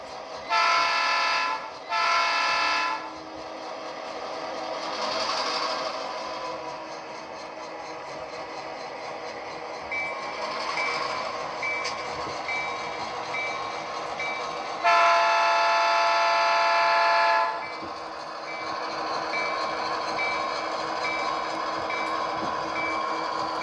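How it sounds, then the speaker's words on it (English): An HO scale Atlas Trainman GP38-2 model locomotive runs with its sound playing: a steady engine drone carries throughout, broken by several clear horn blasts near the start and another long blast midway. "We'll start her up and we'll just give her her first run as a full loco."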